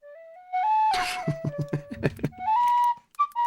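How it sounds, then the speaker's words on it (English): Tin whistle played solo, bright sustained notes stepping up and down with a quick run of short articulated notes in the middle, close and fairly loud. "I'm gonna play the tin whistle"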